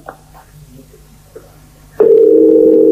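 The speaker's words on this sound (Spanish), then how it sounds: "Ahí se está llamando." A telephone call line gives a steady, loud electronic tone that starts abruptly and holds, after a quieter stretch of faint low room noise.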